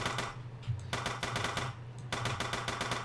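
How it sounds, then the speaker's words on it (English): An RPK machine gun fires in a video game as a rapid, evenly spaced burst of harsh clattering shots, broken by a short pause before the fire resumes. "With a horrible sounding gunshot noise."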